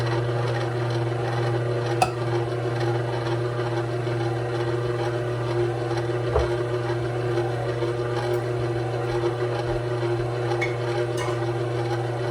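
Whole wheat bread dough is mixed with a steady low mechanical hum and a continuous rubbing, stirring texture, with a few faint knocks and no talking.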